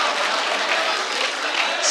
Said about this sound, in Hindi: एक बार जोरदार तालियों से इस्तकबाल किया रहा है